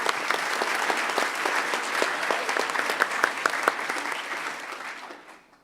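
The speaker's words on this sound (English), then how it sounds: "So give Lindsay another quick round of applause." A conference audience at a closing ceremony claps in a sustained round of applause, dense and fairly loud, holding steady for several seconds before tapering off at the end.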